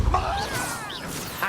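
Depulso spell cast in the video game Hogwarts Legacy: a sharp magical whoosh with a crashing impact burst at the start, then shimmering swept tones over a steady game-music bed.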